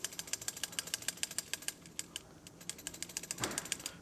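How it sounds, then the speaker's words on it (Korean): A new torque converter guide vane worked back and forth by hand gives off a rapid run of crisp mechanical clicks and ticks, close up and fairly even in rhythm, with a brief rougher scrape near the end. "가이드베인 한번 움직여 볼게요."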